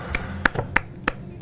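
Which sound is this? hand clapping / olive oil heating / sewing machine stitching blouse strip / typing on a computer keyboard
hand clapping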